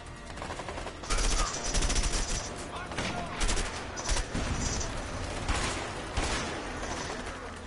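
Rapid bursts of automatic gunfire in a shooting video game, loud and close, come in repeated volleys with short gaps between them, while a player talks over the action.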